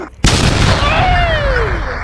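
A bomb goes off in the video game Melon Sandbox: a sudden loud boom bursts in after a brief quiet, then rings out with a falling whine as it fades.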